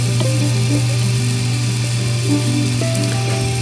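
A Miele dishwasher fills with water after repair, giving a loud, steady hum with a smooth rushing flow and a few faint clicks underneath.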